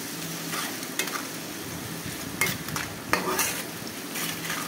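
Ginger and garlic sizzle and fry with chicken in a jackfruit curry pan, a steady hiss broken by several sharp scrapes and clacks of a spatula stirring against the pan.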